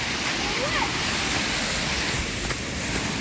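A waterfall on a river pours in a steady, loud, broadband wash with no break, close by and filling the whole scene.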